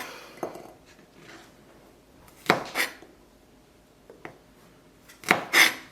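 Garlic cloves being trimmed with a knife on a board, a handful of sharp separate chops and taps spaced out over quiet, close and fairly crisp.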